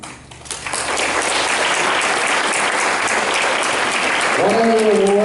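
Loud, dense applause from an audience at a bocce ball awards gathering, starting after a brief quieter moment and sustained to the end, with a voice starting to speak near the close.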